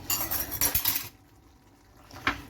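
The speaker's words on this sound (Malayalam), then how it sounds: "മല്ലിയിലയും കൂടെ ചേർത്ത് നമുക്ക് നന്നായിട്ടൊന്ന് ഇളക്കി യോജിപ്പിക്കാം" A spoon scrapes and clinks against a pan while quail egg curry with coriander leaves is stirred nearby, a second of busy clatter, then a lull and one last knock.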